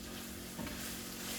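Ground beef, first simmered in a little water, now browns in a skillet with a steady hissing sizzle and a brief stir or scrape midway, close and continuous.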